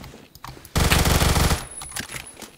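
A burst of rapid automatic fire from a Vector submachine gun in the shooter game Phantom Forces, loud and close, lasting under a second amid quieter game sounds.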